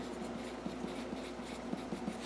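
Pen or marker scratching numbers in quick short strokes on a writing surface during a math lesson on interest, close and fairly quiet with no speech over it.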